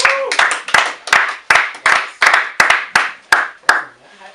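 Hands clap in a firm, even rhythm, about ten sharp claps a little under half a second apart, close and loud in a small basement radio studio, with a brief voice at the very start.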